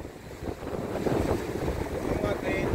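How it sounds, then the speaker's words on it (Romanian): Wind buffets the microphone on a foggy Romanian sea shore, with a steady roar of waves and surf beneath it, fairly faint and continuous throughout. "Marea e frumoasă!"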